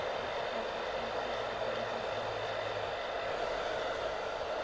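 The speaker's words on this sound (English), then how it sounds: "So you can dry the hair from back to front." A hair dryer runs steadily while blow-drying hair during a beard and haircut session, giving an unbroken, even whoosh of airflow at moderate level with no pauses or speech.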